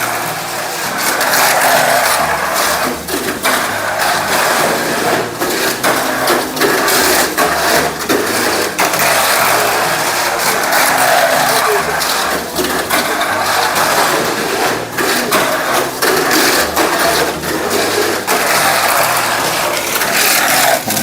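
Continuous high-pitched whirring and grinding of Tamiya Mini 4WD toy car gears, steady and loud throughout with no talking.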